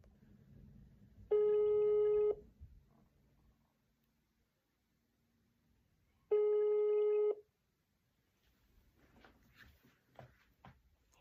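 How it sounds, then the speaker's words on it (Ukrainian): Telephone call: two long electronic ringback tones about five seconds apart, each lasting about a second, with quiet line noise between and faint clicks afterward. "Владос, подзвони і привітай когось то з днем народження голосом Зеленського."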